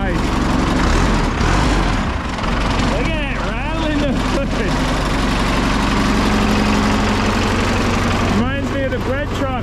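A 1967 Cadillac engine, sitting unused for 15 years, running with a loud, rough rattling idle that drones steadily throughout, while people talk over it nearby.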